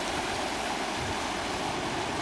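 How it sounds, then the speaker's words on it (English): A small clear mountain stream in the Dolomites babbles steadily and close by, a continuous bright rush of water trickling over stones with no voices. "Nice little stream."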